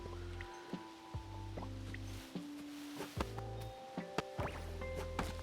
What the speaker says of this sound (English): I think there might be too much leaf noises, leaf collision noises